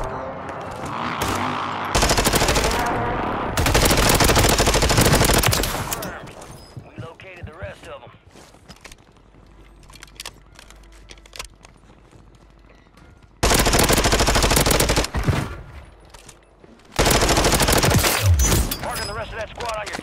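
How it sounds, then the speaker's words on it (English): Rapid automatic gunfire from the Warzone 3 video game comes in several loud, dense bursts with quieter gaps between them, and scattered shots and game sounds fill the pauses. "I just get shot at from somewhere"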